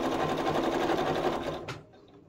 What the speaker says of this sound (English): when you get to the end, a little back stitch to lock it in place